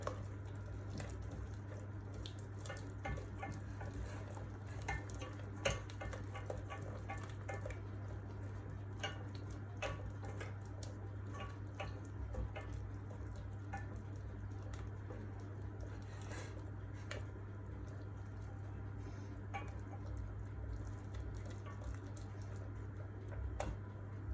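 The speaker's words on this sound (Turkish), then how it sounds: "Hemen içine bir yemek kaşığı yağımı atıyorum ve o da eriyene kadar karıştırıyorum" A spoon stirs a tablespoon of butter into hot, cooked parmesan cream in a pot until it melts, making soft, irregular clicks and light scrapes. The sound is quiet and close, over a low steady hum, with no talking.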